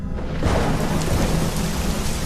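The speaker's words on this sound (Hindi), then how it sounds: "बारिश होने लगी।" Steady rain pours with a low rumble of thunder underneath, a dense continuous wash of falling water heard close and alone with no voices.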